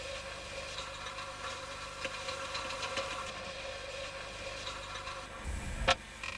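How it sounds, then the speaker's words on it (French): A coal mining machine cuts coal at the face in a mine, advancing in jerks, with a steady mechanical grinding drone, faint knocks, and a louder surge near the end. "La machine progresse par à-coups, abattant le charbon sur une courte distance."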